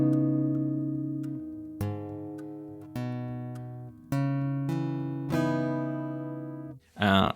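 Fingerstyle acoustic guitar played through a Fishman magnetic pickup, clean sustained chords and plucked notes with almost no string or body percussion, loud and close, ending with a brief burst of noise.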